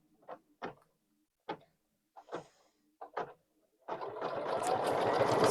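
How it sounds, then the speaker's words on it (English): An embroidery machine stitches the back onto a luggage tag, made in the hoop. A few soft knocks and clicks come first, then the machine's steady, rapid whirring stitching starts and continues loud and close to the end. "So now it's going to stitch the back on."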